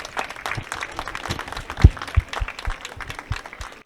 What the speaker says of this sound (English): Loud applause for them,